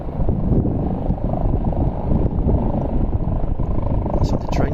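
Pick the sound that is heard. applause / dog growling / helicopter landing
helicopter landing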